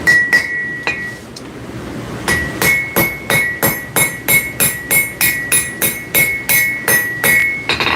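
Hammer blows ring out on metal at a forge in a workshop, a few spaced strikes and then a steady rapid run of bright, ringing clinks close by, with no talking.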